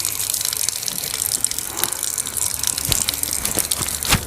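A continuous stream of water running and gushing close by, as from a tap during wudu ablution, steady throughout with brief splashes and no talking.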